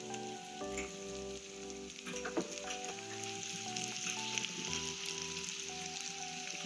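Chopped onions fry and sizzle in a pan with Kashmiri chili while being stirred, a steady close crackle with occasional scraping, under a quiet tonal hum.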